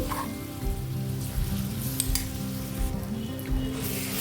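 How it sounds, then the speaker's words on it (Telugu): Thick wood apple pulp sizzling and crackling in hot oil for pulihora, a steady close frying hiss with occasional stirring clinks from a pan. "ఆ గుజ్జును వేసేసుకొని ఫ్రై చేసుకోవాలి"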